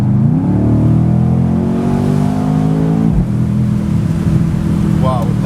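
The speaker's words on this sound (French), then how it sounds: "on peut entendre les échappements" A Mercedes C63s AMG convertible's 4-litre V8 accelerates hard in Sport Plus mode, its deep exhaust note climbing steadily in pitch and staying loud and close throughout, with a brief dip before rising again.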